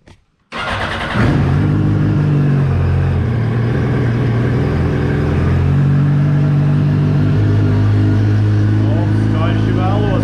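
A Yamaha FZ1 motorcycle engine cranks briefly, catches and roars to life, then holds a loud, close, steady running note with a slight lift in revs toward the end.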